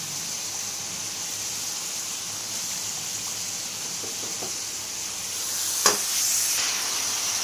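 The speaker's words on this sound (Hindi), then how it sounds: "इसमें हमने ऑयल डाल लिया है और लहसुन अदरक का पेस्ट है और चिकन डाल के हम इसे अच्छे से भुनेंगे।" Chicken in oil with garlic-ginger paste sizzles as a steady broadband hiss in a pan, with a few faint scrapes and one brief clatter near the end.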